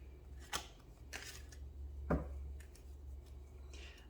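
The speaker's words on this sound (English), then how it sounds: "I just want to shuffle the cards." Tarot cards are shuffled by hand in quiet, short riffling bursts, a few separate flicks and slides against a low steady hum.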